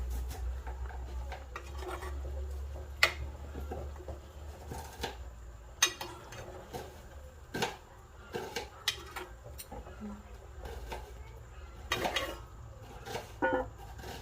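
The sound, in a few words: removing the lid from a pot of boiling fish curry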